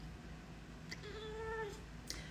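A house cat lets out one drawn-out, wavering meow with a rising then falling pitch, plus a couple of short, faint squeaks. Steady room hum sits underneath, and nobody speaks.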